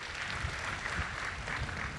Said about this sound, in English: Please clap for Ada.